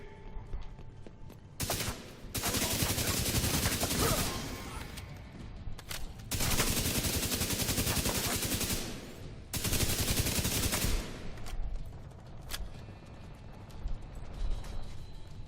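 Bursts of heavy automatic gunfire in The Division 2, loud sustained volleys of several seconds each separated by short gaps and single sharp shots, close and dominant with no talking.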